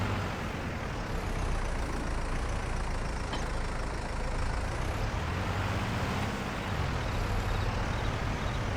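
A Deutz tractor drives in the Farming Simulator 22 video game, giving a continuous broadband engine rumble with a steady drone throughout, fairly faint and with no talk.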